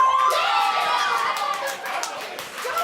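An indoor crowd cheers and shouts in a burst of overlapping excited voices that stays fairly loud, then thins slightly toward the end.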